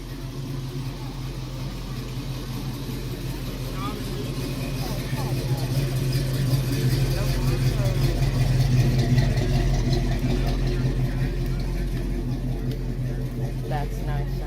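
A Ford Mustang engine at a car show, a steady low rumble that swells slightly louder midway, heard close under people talking nearby.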